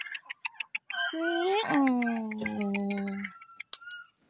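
A turkey gives a loud, drawn-out warbling call close by on a farm, with brief clucks and rustles around it and a voice speaking faintly.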